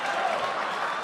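A crowd at the PAX Prime 2013 esports event claps in a steady, dense burst of applause, loud and continuous, with no talking over it.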